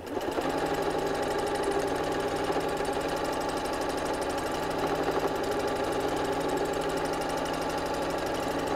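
A sewing machine stitches steadily around the edges of felt pieces on an autumn cushion, a continuous close mechanical whir with a fast even rhythm running throughout with no talk.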